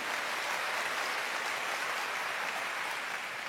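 Church congregation applauding together for God during a sermon, a steady, dense wash of many hands clapping at moderate distance, sustained evenly throughout without speech.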